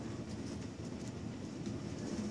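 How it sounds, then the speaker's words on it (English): A train in the video game Call of Duty: Black Ops 2 rumbles past with a broad, steady roar and faint clattering, continuous and fairly close, with no talking. "Oh, the train's coming"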